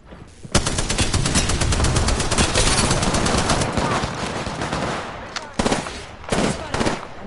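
Automatic weapon fire in the video game Apex Legends rattles in a loud, sustained burst for several seconds, then breaks into a few shorter volleys near the end.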